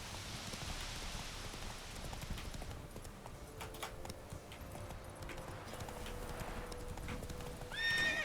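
Horse in the Witcher 3 video game galloping with rapid clip-clop hoofbeats and letting out a neigh, heard alone over steady ambient game sound.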